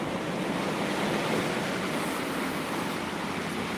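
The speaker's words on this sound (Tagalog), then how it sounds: "Sobrang lakas ng ulan." A steady, heavy wash of broadband noise from a downpour of heavy rain outside a house, constant and fairly loud without breaks or voices.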